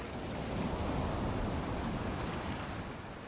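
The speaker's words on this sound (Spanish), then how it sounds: "Esta se está escuchando como las olas del mar." Recorded ocean waves played during a family mindfulness session, a steady broad wash of surf with wind-like hiss, fairly loud and continuous, no voices.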